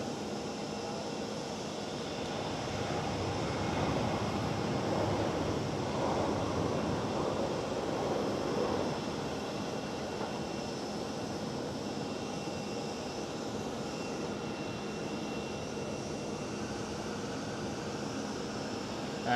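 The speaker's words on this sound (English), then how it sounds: "There goes KLM Cityhopper with a SkyTeam livery E190." A KLM Cityhopper Embraer E190 jet airliner in SkyTeam livery passes at Amsterdam Schiphol, a steady broadband engine roar that swells slightly in the middle and then holds at a distance, with no voices.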